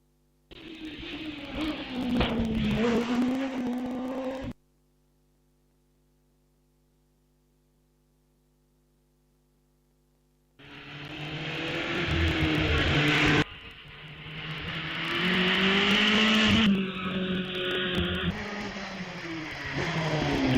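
A hillclimb race car at the British Hillclimb Championship at Wiscombe Park roars past, with a loud engine note rising and falling in two bursts separated by a quiet gap, heard from the trackside.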